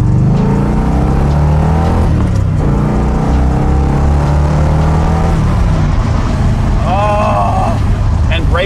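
A 1981 Corvette ZL1 anniversary edition with a 427ci V8 engine accelerating, a loud continuous roar with rising and falling pitch close by, and a voice briefly heard near the end.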